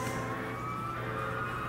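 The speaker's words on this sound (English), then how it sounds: "Boy, that's a loud fire truck." A loud fire truck siren wails steadily nearby, a sustained tone heard with no talking.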